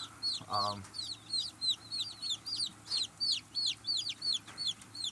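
Newly arrived baby chicks chirp in a steady run of rapid, high peeps, with a brief lower clucking burst early on; the cheeping is close and continuous, no talking.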